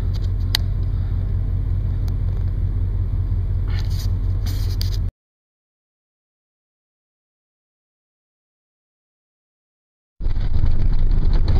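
A car drives up the Bear Main road with a steady low rumble for about five seconds. It cuts to silence for several seconds, then the rumbling drive resumes, loud and close.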